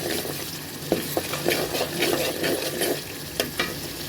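Fish fries in a spiced masala in a pan, a close, steady sizzle with scattered scrapes and knocks from stirring, and no talking.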